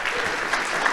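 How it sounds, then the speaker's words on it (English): A conference audience applauds a presenter at a Human Media Lab talk session, a short steady burst of many hands clapping that fills the room evenly. "let's give a round of applause to our presenter"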